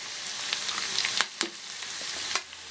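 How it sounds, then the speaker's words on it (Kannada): Curry leaves, mustard seeds and garlic crackle and sizzle in hot oil, a close steady hiss with a few sharp pops standing out over a brief stretch. "ಮತ್ತು ಕರ್ಬೇವಿನ ಸೊಪ್ಪು, ಇದು ಚೆನ್ನಾಗಿ ಫ್ರೈ ಆಗಬೇಕು"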